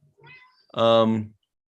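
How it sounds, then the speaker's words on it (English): A house cat gives one clear, loud meow, preceded by faint softer chirping sounds, close by in an otherwise quiet room. "There's a cat meowing."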